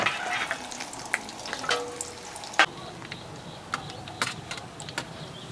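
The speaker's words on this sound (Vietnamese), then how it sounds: "Bây giờ để cái đùi gà lên chiên nha bà cô chú." Chicken thighs frying in hot oil give a steady close sizzle with scattered pops and crackles, plus a few sharp utensil clinks over the bubbling.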